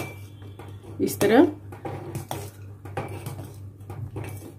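Bottle gourd kheer is stirred in a pot, a spoon scraping and clinking against the metal with one louder clattering burst, while a person speaks briefly.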